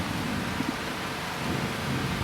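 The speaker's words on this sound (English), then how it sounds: "Ooh, nice little thunder." Low thunder rumbles through steady, heavy tropical-storm rain in Puerto Rico, a dense wash of rainfall noise with the thunder only modest beneath it.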